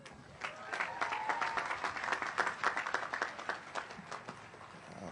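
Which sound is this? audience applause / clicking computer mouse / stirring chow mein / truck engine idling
audience applause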